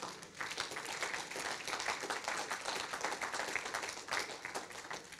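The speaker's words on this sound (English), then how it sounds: "let's give the Lord a clap offering." A church congregation claps continuously in a dense, fairly quiet patter of applause, heard from some distance.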